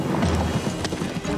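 Horses' hooves clip-clop in quick, close succession, a rapid run of muffled thuds with a few sharper strikes.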